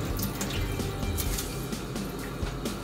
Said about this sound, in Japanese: これ洗うときはもうバーッと水で流しちゃって大丈夫 です